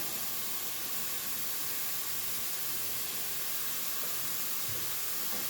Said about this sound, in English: We've got our garlic. I'm going to let that cook a minute before I put this in.